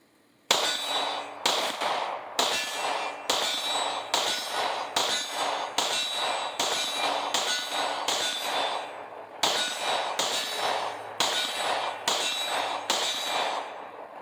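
Smith & Wesson M&P 2.0 10mm pistol fired as a steady string of about fifteen sharp, loud reports at a quick even pace, with a brief pause midway and ringing echo between shots.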